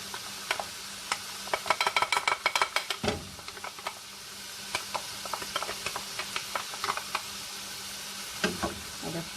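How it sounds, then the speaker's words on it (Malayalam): Ground coconut paste being stirred into cooked snake gourd in a pan, with a bright steady sizzle and rapid clustered scraping strokes early on, then scattered lighter clicks and stirs. "അരപ്പിട്ട് നന്നായി ഇളക്കിയിട്ട് 1 മിനിറ്റ്"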